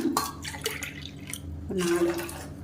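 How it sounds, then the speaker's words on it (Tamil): Water poured from a tumbler into a pot while making a millet drink, soft splashing and dripping pours in short bursts, fairly faint. "4 டம்ளருக்கு தண்ணி ஊற்றிருக்கேன்"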